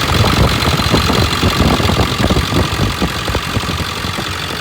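A 7.3 diesel engine runs after an oil change, a loud, close, steady clattering idle with fast knocking pulses and a broad hiss.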